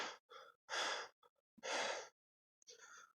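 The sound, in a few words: character breathing heavily, exhausted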